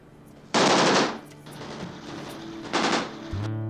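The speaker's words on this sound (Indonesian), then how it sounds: "Tak terima Arkadi dihabisi oleh pengecut yang menembak musuh tak berdaya macam ini" Bursts of machine-gun fire serve as a sound effect in a war story narration. One loud rapid burst is followed by quieter sustained crackle, then a second burst and a low tone at the end.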